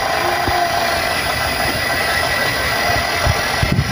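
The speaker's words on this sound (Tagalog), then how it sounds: "Running na yung compressor." An inverter window air conditioner compressor, a Kolin quad series unit just repaired after an H5 error, runs with a steady loud hum and a faint rattle, with a few soft knocks near the end.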